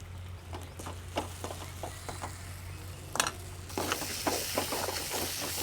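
Mango pieces frying in a pan with garam masala, turmeric and salt, stirred by a spoon that scrapes the pan bottom at irregular intervals over a steady low sizzle, which grows louder and brighter partway through.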